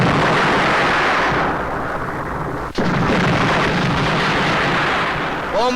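A film bomb blast fills the scene with a loud, sustained roaring rumble and debris wash lasting several seconds, with a brief dip midway before the roar resumes at full strength, with no voices over it.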